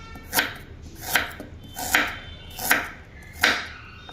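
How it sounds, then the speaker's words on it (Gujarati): Five sharp knife chops through ginger on a cutting board, evenly spaced about a second apart, close and crisp with quiet gaps between. "આદુને કટિંગ કરી નાખીએ"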